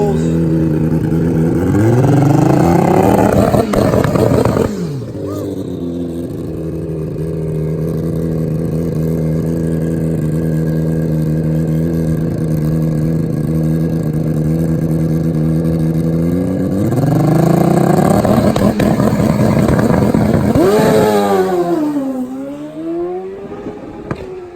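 A grudge drag-racing motorcycle, a Hayabusa or nitrous ZX-14, revs hard and roars off the line with rapid rising gear-change whines, then another loud run follows, close and dominating with little audible talk.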